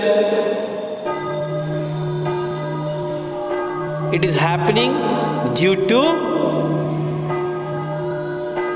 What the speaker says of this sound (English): You can see a cartoon character, it is ringing the bell.